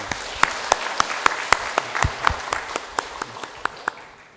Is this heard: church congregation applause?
yes